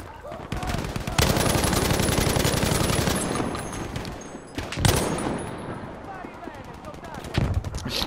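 Rapid bursts of Battlefield V gunfire on the Mercury map in Breakthrough mode, dense automatic fire with a few louder blasts, loud and continuous with voices talking faintly underneath.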